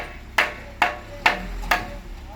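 Four evenly spaced, sharp hammer blows driving nails, each a crisp close strike with a short ringing decay, over a quiet background.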